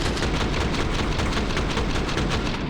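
Dense, continuous pistol gunfire from Counter-Strike in a BLAST Austin Major 2025 match, loud and close with no break and no speech.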